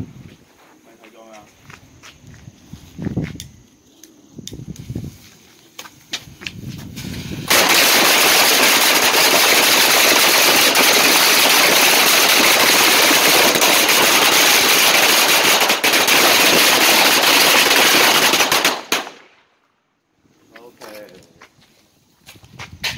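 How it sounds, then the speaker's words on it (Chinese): A long string of firecrackers set off for a business opening crackles loudly in a dense, continuous burst for about eleven seconds, preceded and followed by quieter voices and movement nearby. "要点鞭炮嘞？"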